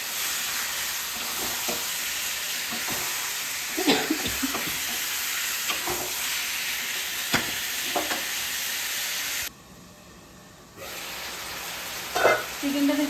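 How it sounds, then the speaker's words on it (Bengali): Chicken sizzles and hisses steadily as it is stir-fried in a pan for Bengali chicken kosha, with scraping stirring strokes throughout and a brief drop in sizzle partway through before it resumes. "খুব ভালোভাবে চিকেনটাকে কষিয়ে নিচ্ছি।"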